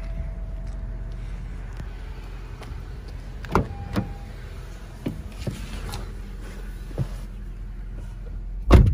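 A 2014 Honda Civic's trunk is popped open, giving a few brief mechanical clunks and clicks over steady low background rumble, with a sharper thump near the end.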